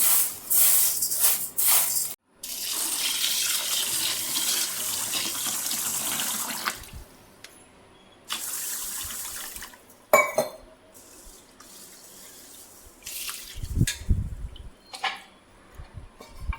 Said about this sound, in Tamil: இதை ஒரு நாலு அஞ்சு வாட்டி நல்லா கழுவிட்டு தண்ணி ஊற்றி